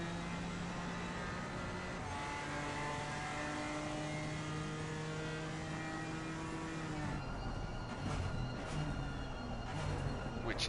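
BMW M4 GT4 race car with a 6-cylinder inline twin-turbo engine in a racing video game at the Nürburgring, its engine droning steadily with rising and falling tones, then a shift in pitch near the end; moderate level throughout.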